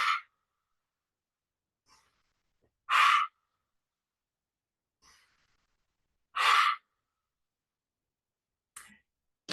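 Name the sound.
slow deep breathing demonstrated during yoga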